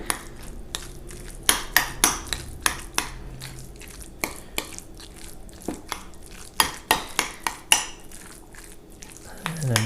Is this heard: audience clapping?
no